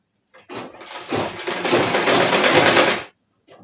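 A sewing machine stitches pyjama fabric in one continuous run of about three seconds, its rapid mechanical whir building up and then stopping abruptly, close and loud.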